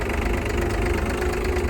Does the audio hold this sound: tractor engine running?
yes